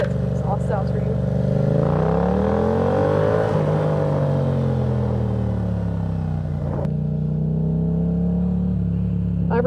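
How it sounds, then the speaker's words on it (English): A Yamaha MT-07 motorcycle exhaust rumbles steadily, with a deep throaty rev that swells and falls mid-clip before settling back to a low idle-like drone. "let's see if I can get some exhaust sounds for you"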